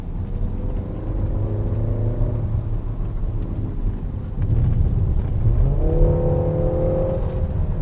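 Peugeot 3008 SUV engine revving with a guttural growl much like a turbocharged boxer engine, heard from inside as it accelerates through two rising pulls, loud and close with no talking.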